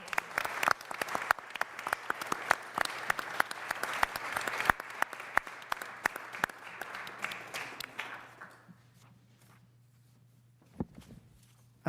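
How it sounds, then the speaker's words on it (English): Audience at a city council work session applauds steadily for several seconds, dense clapping that fades out, leaving a quiet room with a low hum and a few isolated claps. "can we give them another round of applause?"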